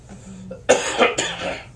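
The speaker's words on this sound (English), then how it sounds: "Pardon the cough." A man coughs close to the microphone, two or three harsh bursts after a quiet moment, like clearing his throat.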